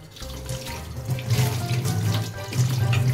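Tap water runs steadily into a sink as a blackened iron tava griddle is rinsed clean, a continuous close splashing with slight surges as the pan moves under the stream, no voices.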